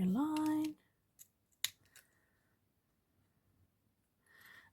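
Scissors cut faux leather for a handmade key fob: a few short, crisp snips spaced about a second apart, close and fairly soft, following a brief voice and then fading to a quiet room.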